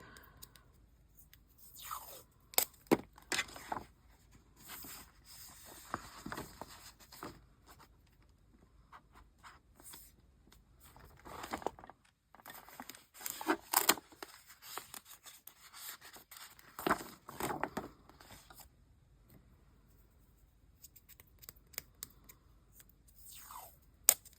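Rolls of travel washi tape are handled and torn in short crisp bursts of tearing and rustling, close and quiet with pauses between.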